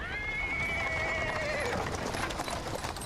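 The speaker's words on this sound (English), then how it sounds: "A cart drawn by a sad little horse appears around the corner." A horse in a video game, pulling a cart, whinnies with a long, wavering neigh that falls in pitch, over a busy background of rumbling noise.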